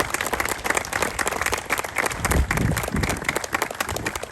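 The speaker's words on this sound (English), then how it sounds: "Give him a good round of applause." Applause from the audience at a going-away party for Andrew Cuomo, a loud, dense wash of clapping that runs steadily for the whole stretch with a crowd murmur underneath.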